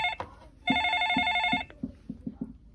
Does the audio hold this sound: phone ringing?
yes